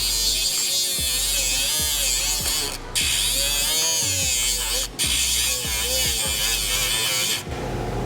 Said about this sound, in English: And then you will need to grind it off.